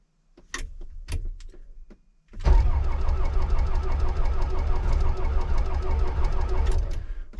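A diesel tractor with heated glow plugs cranks on a freezing morning after a few light clicks, the starter churning loudly in a fast rhythmic grind for about five seconds.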